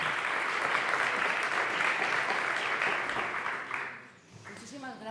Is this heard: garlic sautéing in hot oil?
no